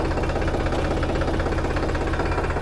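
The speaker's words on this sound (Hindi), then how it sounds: "तो चलो ट्रैक्टर की राइड लेते हैं।" A tractor engine runs steadily in low gear, a close, continuous mechanical drone with an even, rapid knocking pulse and no break.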